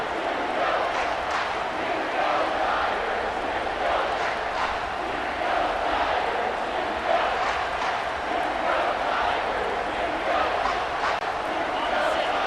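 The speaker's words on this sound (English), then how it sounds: "The roar of the crowd trying to fuel this defense to keep them pinned in their own end." Stadium crowd roaring in EA Sports College Football 25 during an LSU vs Mississippi State game, a loud, continuous wash of cheering and shouting that holds steady throughout.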